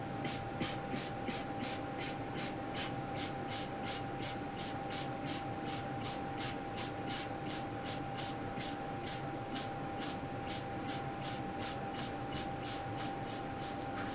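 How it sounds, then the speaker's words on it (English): A voice hisses in short, evenly spaced bursts, about two per second, steady and close, over a faint constant background tone. "second type of hiss, we want to hiss intermittently"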